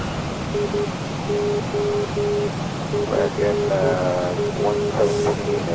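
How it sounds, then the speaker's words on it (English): Morse code identifier on an aircraft navigation radio tuned to an airliner's ILS: steady dots and dashes of a single tone repeating clearly over cockpit and engine noise, with brief talk partway through. "Let's check the Morse code."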